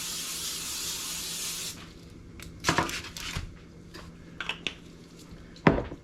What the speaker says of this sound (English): take your spray and spray your foil